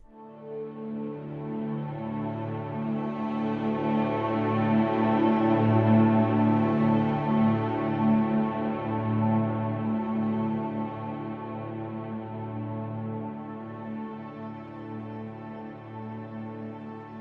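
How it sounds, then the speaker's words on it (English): Welcome to Ambition preset from the Sound Yeti Ambition library: a dense, sustained, evolving synth pad that swells gradually toward the middle and then slowly eases off, with rich layered harmonics and no voices. "I've loaded up the main NKI file, which starts with a preset called Welcome to Ambition"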